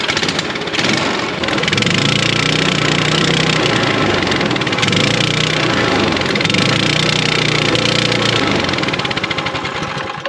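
A small snowmobile engine on a cheaply built kid-safe machine, fitted with a pull starter, runs loud and close with a rough, rapid knocking idle that holds steady for the whole stretch.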